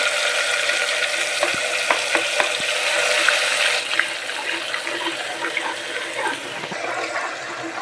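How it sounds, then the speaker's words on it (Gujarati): Asafoetida and garlic dropped into hot oil for Gujarati-style pav bhaji, a loud, close, continuous sizzle with occasional small clicks of a spoon stirring in the pan. "તેલ આપણું સારી રીતે ગરમ થઈ ગયું છે। તો હિંગ એડ કરી દઈશું, લસણ,"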